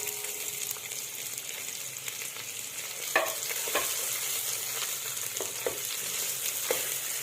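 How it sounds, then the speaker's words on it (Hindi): Onions sizzle in hot oil with cumin in a pan for a homemade desi chicken curry, a steady close frying hiss broken by several scraping stirs of a spoon, with no talking. "प्याज को मैं फ्राई कर रही हूँ, जैसे ही कलर आएगा इसमें मैं चिकन ऐड करूंगी"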